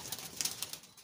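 A young white tiger grizzle pigeon gives soft faint cooing and rustling in a loft, a quiet brief burst of bird sounds.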